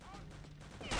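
Gunfire in Return to Castle Wolfenstein, a dense burst of shots building to a loud blast at the end, with in-game sound throughout.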